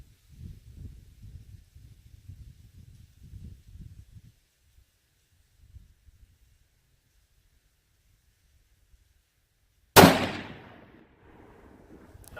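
A Ruger American Predator rifle in 6.5 Creedmoor with hand-loaded rounds fires one sharp, loud shot near the end, ringing out briefly after a long stretch of faint low rumble and near silence.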